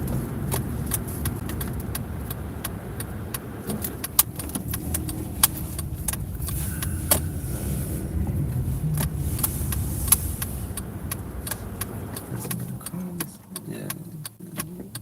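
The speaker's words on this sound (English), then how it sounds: "Back to driving in the dark once we leave this town." A car drives along a road at night, a steady low rumble of engine and tires from inside the cabin with faint rattling ticks and brief, quiet talk.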